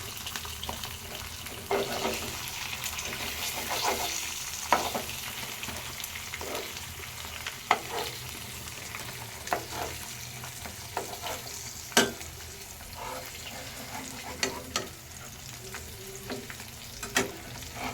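An egg omelette seasoned with Maggi masala sizzles and fries steadily in a pan, with occasional scrapes and taps of a spatula and no talking.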